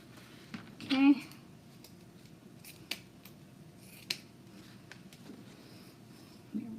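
Scissors trim ribbon on an EZ Bow Maker while making a bow, giving a few quiet, crisp snips spaced over several seconds against a soft background.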